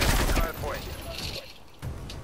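Video game gunfire in a team hardpoint match cracks in a few bursts, loudest at the start and again near the end, mixed with mechanical clatter and a voice talking over it.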